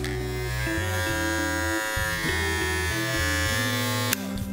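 A Kemei KM-2296 electric hair clipper runs close by with a steady loud motor buzz, its pitch wavering and stepping as it is handled, with a brief click near the end.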